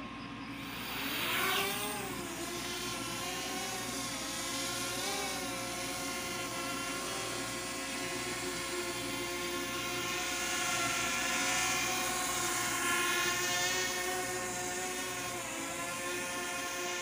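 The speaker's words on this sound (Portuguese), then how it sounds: "Então vamos lá. Vamos levantar o drone." A drone lifts off and flies steadily, its rotors whining in a strong, continuous buzz whose pitch rises and shifts as it climbs and holds in the air near a cemetery, with no talking.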